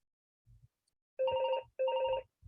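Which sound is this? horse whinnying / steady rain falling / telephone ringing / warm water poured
telephone ringing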